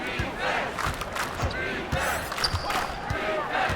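A crowd cheers in an NBA 2K24 basketball game arena, a constant roar that swells and dips. Ball bounces and other game sounds are mixed in.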